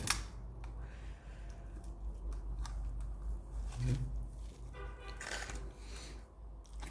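Protective film peeled off a new DJI Mini 2 drone during unboxing, a few faint, quiet crinkling and tearing rustles close by.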